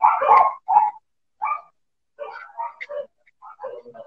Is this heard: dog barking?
yes